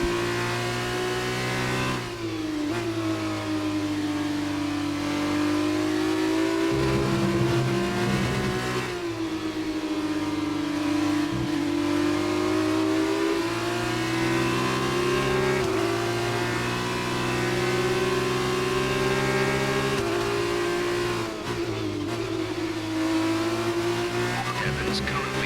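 Formula One race car engine in the F1 2019 racing game, a high continuous whine that rises and falls through gear changes across a long stretch, with a voice heard faintly underneath.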